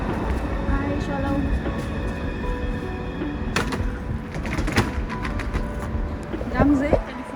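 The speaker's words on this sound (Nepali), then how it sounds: "यो चाहिँ हुदाशरणको रेलवे स्टेसन।" A busy railway station in Israel carries a steady wash of mechanical rumble, clanks and squeals from a train, with a sharp metallic bang midway and people talking throughout.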